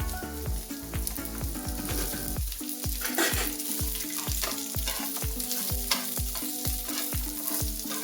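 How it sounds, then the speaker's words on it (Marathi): Ginger and garlic frying in a spoonful of hot oil, a bright steady sizzle with repeated scraping and stirring strokes of a utensil against the pan. "चमचाभर तेल घालून घ्यायचं आणि हे अद्रक लसूण हे पण यात तेलात घालून घ्यायचंय"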